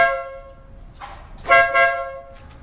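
Horn on a Euro Samurai 155i motorcycle, an old-school style horn, gives a steady, rich buzzing tone, then two louder, rougher honks, all close and loud with no talking.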